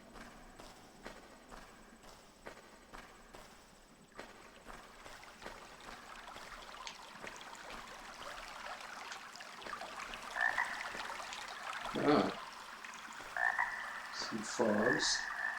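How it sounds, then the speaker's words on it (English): Frogs croaking in the video game Arx Fatalis, a few distinct croaks rising toward the end over ambient background and soft footsteps, with a brief word spoken early on. "some frogs."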